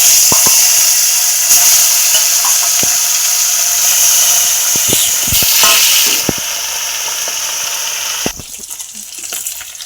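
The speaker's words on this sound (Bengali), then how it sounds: "এবার এভাবে বাকি মাছগুলো ভেজে নেব।" Pieces of fish fry in a pan of hot oil on a gas stove, a loud continuous sizzle broken by a few sharp knocks that settles into a quieter hiss near the end.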